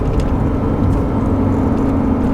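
A Porsche 911 R engine hums low and steady from inside the car, a constant mechanical drone without voices.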